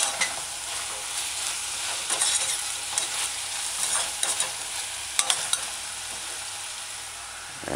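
Chicken stir-fried on a stove at medium-low heat, a cooking spoon scraping and stirring through a steady close sizzle, with sharp clicks and knocks of the spoon against the pan.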